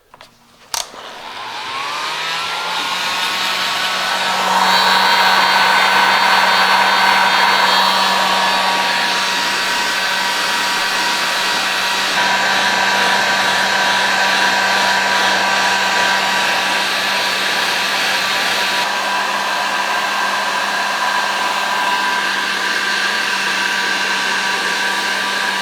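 A heat gun or hair dryer blows on a wooden longbow limb made from a stick, a loud steady whirring blast that spins up quickly and holds at an even pitch for the whole stretch.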